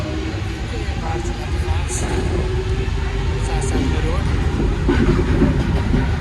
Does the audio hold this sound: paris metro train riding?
yes